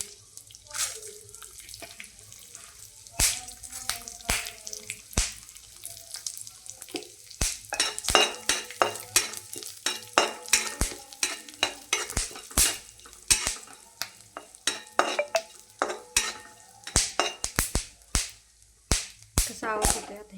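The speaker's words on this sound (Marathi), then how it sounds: "थोडंसं तूप टाकलेलं आहे, त्याच्यामध्ये आता आपण टरबुजाची बिया टाकणार आहोत" Watermelon seeds roasting in a little ghee in a pan, crackling and popping in irregular bursts as they are stirred, close and fairly loud, with a low background hum.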